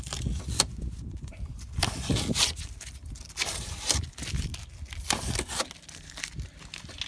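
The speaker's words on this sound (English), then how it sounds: "So let's take off the masking tape in the middle." Masking tape being peeled off black plastic car trim, heard as close, crinkly tearing and rustling bursts that come in uneven pulls with short pauses, fairly quiet overall.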